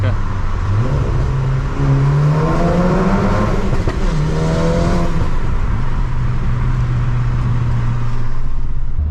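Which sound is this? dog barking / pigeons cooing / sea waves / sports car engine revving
sports car engine revving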